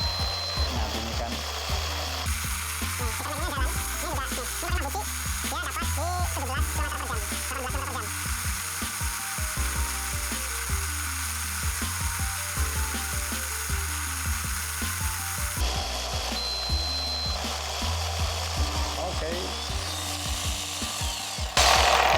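A Tamiya Mini 4WD car with a Mabuchi Victory Magnum motor runs on a speed checker, giving a loud, continuous high-pitched whirring drone with shifting mechanical tones and rattle throughout.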